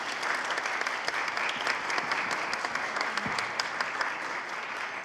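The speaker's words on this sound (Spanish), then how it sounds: "Para que pida un aplauso," Audience applause at a community solidarity event in Mexico City, a steady, even patter of many hands clapping in a room, moderately loud and continuous for about five seconds, with no voices over it.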